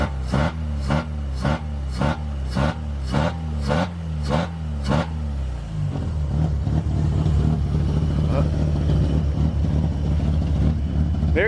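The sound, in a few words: Mazda RX7 FC engine revving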